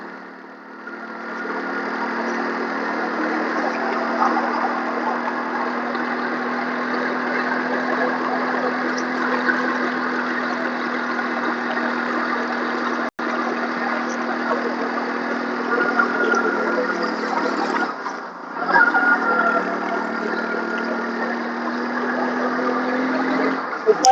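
A motorcycle climbs the uphill road to Pavagadh, its engine a steady, close, continuous drone that holds for the whole stretch with only a brief dip near the end.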